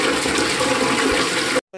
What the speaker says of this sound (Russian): Унитаз, значит, раз нажимаешь, не работает.